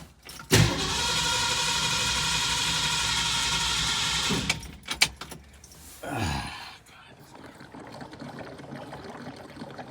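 A 1964.5 Ford Mustang convertible engine with a Summit Racing M2008 carburetor cranks in a loud steady stretch of about four seconds, then sputters and catches with a few uneven bursts before settling into a quieter run, with a voice heard nearby.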